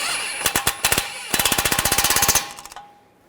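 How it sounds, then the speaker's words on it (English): Power tool driving a control arm bolt and nut on a Chevrolet Malibu: rapid hammering bursts of the impact wrench, a few short rattles, then a longer run of sharp repeated blows before it stops. "Take the bolt and the nut, get that started. And I'll tighten that down."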